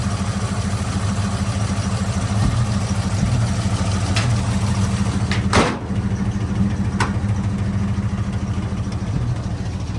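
Original inline-six engine of a 1953 Chevy pickup running steadily with a low, even rumble, close and continuous, with a brief click partway through.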